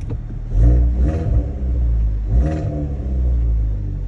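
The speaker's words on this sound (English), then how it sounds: "We got a throaty sounding exhaust" A 2019 Hyundai Veloster N with 82,000 miles revs its throaty exhaust on a cold start, with several close, loud blips rising over a deep idle rumble.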